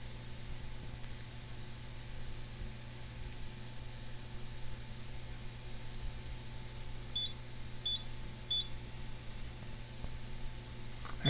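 Three short electronic battery trouble beeps from a Simplex 4010 fire alarm panel sound in a quick evenly spaced series over a steady background hum.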